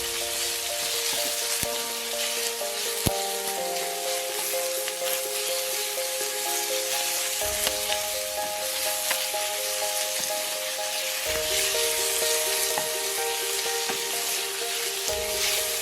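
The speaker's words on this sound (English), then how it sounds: "Add the marinated pork belly and stir-fry until the pieces are cooked through and begin to brown." Marinated pork belly stir-frying over high heat in a skillet, a steady broadband sizzle with sharp scraping and tapping accents, close and loud, with a tonal background hum and no talk.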